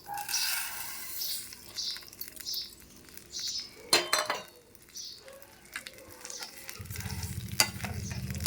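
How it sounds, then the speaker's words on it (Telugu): Vermicelli frying in ghee on a low flame while being stirred, heard as a close, soft sizzle with repeated scraping strokes and a few sharp clinks of utensils against the pan. "అవి మనకి గోల్డెన్ కలర్ వచ్చేంత వరకు ఫ్రై చేయాలండి కలుపుకుంటూ ఉండాలి లో ఫ్లేమ్లో పెట్టుకొని"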